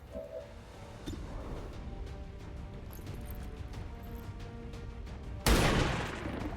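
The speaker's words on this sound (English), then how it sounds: "Take the shot against this thing with our sniper." A single loud, abrupt sniper shot in the strategy game XCOM cracks in late, after a stretch of quieter clicks and game ambience, and leaves a broad lingering blast behind it.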